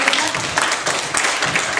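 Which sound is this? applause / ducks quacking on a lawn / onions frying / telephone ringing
applause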